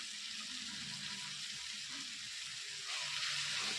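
Poha frying lightly in a pan with salt and turmeric, a steady close sizzle that brightens and grows a bit louder toward the end, with no voices.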